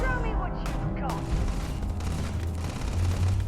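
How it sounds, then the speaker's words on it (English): Gunfire in the space game Starfield, sharp shots and booms cracking across a firefight under speaking voices, fairly loud with a rumbling low background. "Trying to shoot us through the little cracks."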